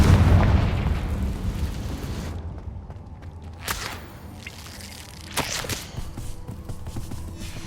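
A Confringo fire spell bursts in Hogwarts Legacy gameplay, opening with a loud, low boom that fades into rumbling, followed by a couple of sharper crackling impacts.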